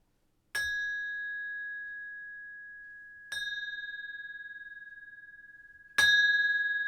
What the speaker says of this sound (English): the temple bell sounds in encouragement